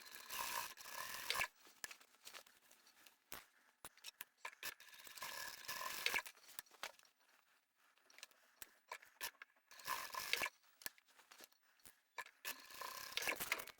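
Sewing machine triple stitching the bottom corners of a fully lined drawstring backpack, bursts of quick mechanical clattering separated by quiet pauses and faint handling rustles.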